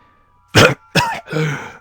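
Three short, harsh coughs close to the mic, the last one longer and rougher, with silence before them.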